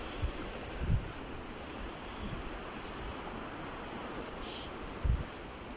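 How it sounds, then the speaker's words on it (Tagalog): Surf washes in a continuous broad roar at a seaside in Dacha, Russia, with occasional low thumps of breaking waves, a bit of wind buffeting the mic, no voices. "Ang ganda ng alon eh."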